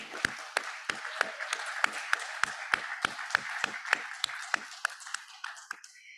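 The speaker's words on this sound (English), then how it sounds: "give yourselves a round of applause for all you do" Staff at a fall quarter general meeting applaud themselves, with sharp, fairly sparse claps in a steady, quick rhythm over a soft room murmur that fades out near the end.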